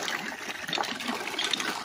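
Water gushes from a hand-operated pump (poso) on a farm lot in Pila, Laguna, splashing and trickling in uneven close surges.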